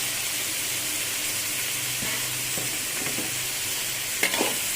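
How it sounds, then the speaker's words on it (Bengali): Bay leaves and green chillies fry in hot oil in a pan for a beef biryani dish, giving a steady, close sizzle throughout with a few light utensil clinks near the end; no one speaks. "আর কিছুক্ষণ ভেজে নিব"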